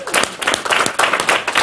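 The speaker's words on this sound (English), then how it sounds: "Give him a round of applause." A conference audience in San Francisco claps during a talk on diet and climate, a short, dense burst of applause from a crowd.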